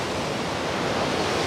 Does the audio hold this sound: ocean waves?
yes